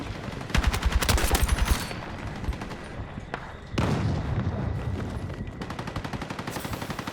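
Rapid automatic fire from a War Wolf L85A3 rifle in Battlefield 6 crackles in quick bursts, one sustained volley followed by further shots, loud and dense against a busy battlefield backdrop.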